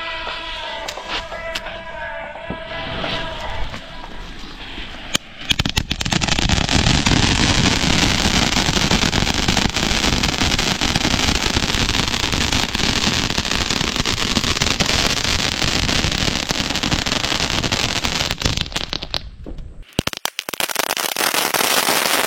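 A Starwell brand firecracker tin from Sivakasi goes off in a long, loud burst of rapid crackling explosions that runs for about fifteen seconds after a quieter lead-in, then cuts off abruptly.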